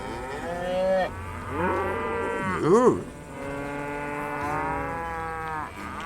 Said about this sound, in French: Oh les vaches.